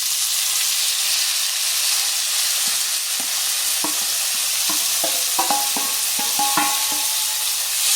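Sprouted green gram and chilies stir-fry in a pan with a steady, close hiss of sizzling oil, while sharp spoon-on-pan clicks and scrapes grow more frequent toward the end.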